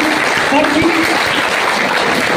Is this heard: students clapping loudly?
yes